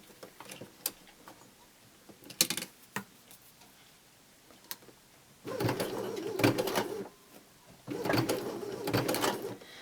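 A Baby Lock Sashiko sewing machine stitches quilt binding in two sustained bursts, each running for a couple of seconds, after a stretch of scattered clicks and small handling taps; no one speaks.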